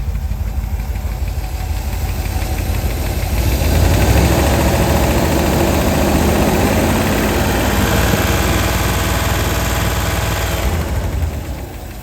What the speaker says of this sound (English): Let's rev the engine a little bit, see what it sounds like.